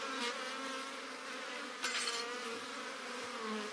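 Bees buzz around a hive being fed syrup, a steady close-up drone with wavering pitch and no voices.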